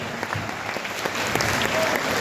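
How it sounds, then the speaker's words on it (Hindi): A large audience gives sustained, loud applause that builds and holds as a dense wash of clapping filling the room. "जोरदार ताली"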